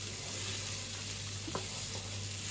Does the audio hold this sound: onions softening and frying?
yes